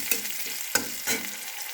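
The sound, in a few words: stirring chopped onion frying in a pan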